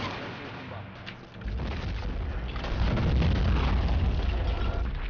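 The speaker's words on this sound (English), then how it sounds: "Now the artillery is a bit of a threat at this point." Artillery in the Battle of Empires game fires shrapnel shells. Booming blasts and low rumbling build after a quieter start and stay loud and dense to the end, blended with battle noise.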